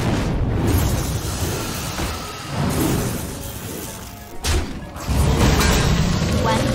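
Fireworks in the Hearthstone card game, played with a Beast Druid deck, go off as a few loud booming, shattering bursts among other game effects. A voice speaks intermittently alongside them.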